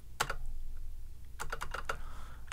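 Quick bursts of keyboard typing, a short cluster of keystrokes, a pause, then a longer run of clicking keys over a low steady hum.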